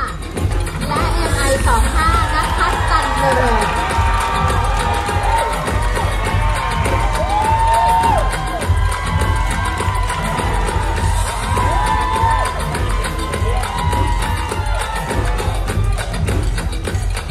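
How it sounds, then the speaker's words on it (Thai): Crowd at the Mister International Thailand 2022 pageant cheers and claps loudly and continuously, with whoops and shouts blending into a dense, unbroken roar. "ขอเสียงปรบมือดังๆอีกครั้งหนึ่งนะคะให้กับ10คนสุดท้ายของเวทีนี้ค่ะ"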